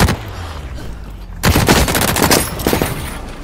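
Shotgun blasts in The Cycle: Frontier, a sharp loud burst arriving after a quieter stretch, followed by a run of rapid, closely spaced shots and crackling impacts in the foreground.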